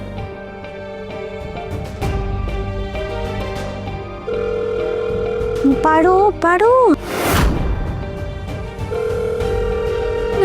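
A phone call in a household drama rings through a handset earpiece as a repeating ring tone that goes unanswered. Tonal melodic music and a whooshing effect sit over it, and someone speaks briefly.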